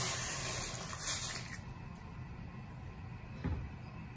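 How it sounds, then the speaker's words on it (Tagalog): Water runs and splashes steadily into a cooking pot for sinigang soup, a continuous gushing pour with a small clunk near the end. "Ayan guys, lalagyan na natin ng tubig."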